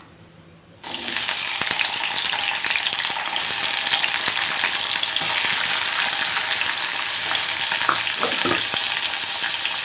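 Chopped onion drops into hot oil in a kadai and bursts into a loud, close sizzle after a quiet first second, then fries in a steady crackling hiss with occasional light stirring clinks.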